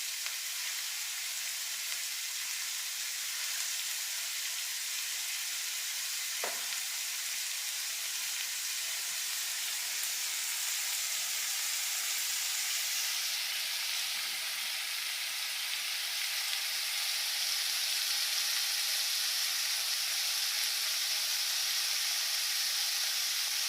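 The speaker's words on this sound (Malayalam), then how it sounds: "ഇതിലേക്ക് നമ്മൾ പെരട്ടി വെച്ചിരിക്കുന്ന കൊഞ്ച് ഓരോന്നായിട്ട് എടുത്ത് വെച്ച് കൊടുക്കാം" Marinated prawns fry in hot oil, producing a steady, even hiss of sizzling that runs unbroken and fairly soft throughout, with no voices.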